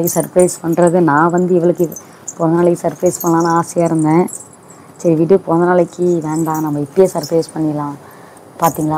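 Silver anklets give off a light, metallic jingle that stays low beneath nearly continuous conversational speech, with people talking over it throughout.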